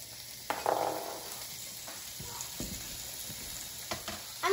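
Bacon strips laid into a preheated, oiled pan sizzle with a close, steady crackle, picking up a louder burst early on and a few sharper pops and utensil clinks later, with no one talking.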